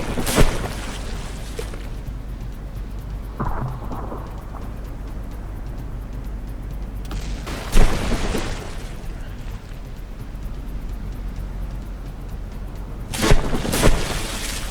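Battleship artillery in From The Depths delivers plunging fire, heard as a few separated heavy booms and bursts over a low rumbling background, with a louder blast near the middle and another near the end.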